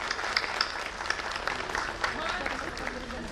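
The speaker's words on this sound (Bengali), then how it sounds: "হাততালি দেবেন" Audience applauding at a school alumni show in a hall, steady dense clapping throughout, moderately loud, with a voice talking over it.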